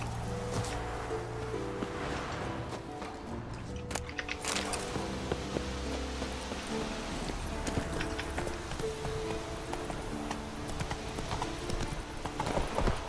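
Roach, a horse in The Witcher 3, gallops with a quick, continuous clip-clop of hooves, close and steady for the whole stretch, with occasional rustling and no speech over it.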